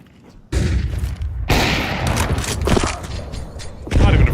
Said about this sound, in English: Not even a flashbang works